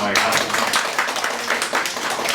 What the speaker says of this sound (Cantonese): 咁我哋今日俾啲掌聲啦